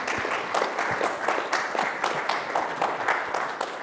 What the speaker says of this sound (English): A round of applause for Ed.